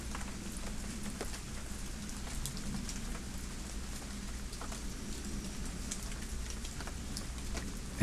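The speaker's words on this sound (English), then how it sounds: "Now it's raining." Steady rain falls outdoors as a continuous, even hiss of drops spattering on surfaces, alone and without pause for the whole stretch.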